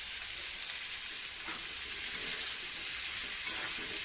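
Cauliflower florets sizzle steadily in a hot pan, a continuous close frying hiss with a couple of faint clinks, no voices.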